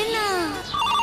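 A mobile phone ringtone plays a loud, close melodic tune with gliding tones that shift into a brighter repeating phrase.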